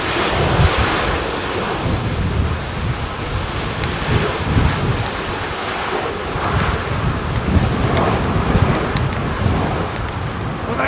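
An Egypt Air airliner lands on runway 09L at London Heathrow, a broad continuous roar mixed with gusty wind buffeting on the microphone that persists throughout.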